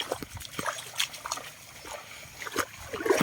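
Legs splash through shin-deep floodwater on a flooded path toward a garden, giving irregular close splashes and sloshes with a light trickling of water in between.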